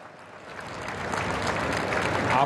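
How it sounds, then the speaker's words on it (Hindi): An audience applauding during Prime Minister Modi's speech about chip manufacturing: dense, steady clapping from a large crowd that gradually swells louder over a few seconds. "इधर ताली बजाने में देर हो गई।"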